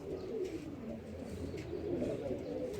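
Pigeons coo softly at a loft, a low, steady murmur of overlapping calls close by with faint ambient noise throughout.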